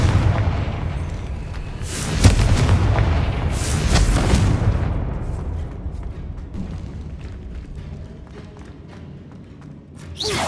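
The Confringo fire spell goes off in Hogwarts Legacy as a series of heavy, rumbling blasts with crackling debris that fades into a low tail.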